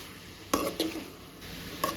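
A spoon stirs bitter gourd masala curry in a pan, giving three brief, quiet clinks and scrapes against a near-silent background.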